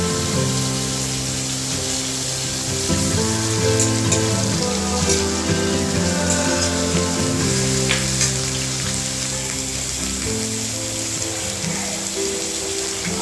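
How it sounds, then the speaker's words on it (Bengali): A steady, dense sizzle of onion with ginger-garlic paste frying in a pan continues throughout, crackling evenly with a low hum underneath. "আদা রসুন পেঁয়াজ সবগুলো ভালো ভাজা হয়ে গেছে"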